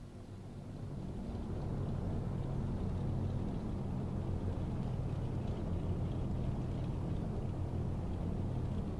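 Steady droning rumble of twin DC-3 radial engines held at 1000 RPM in the X-Plane 11 flight simulator, a continuous even low hum with no voices.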